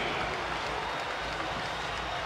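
A pro-Siena basketball crowd in Albany applauds during the 2017 MAAC Championship final, a steady wash of clapping and crowd noise at a moderate distance.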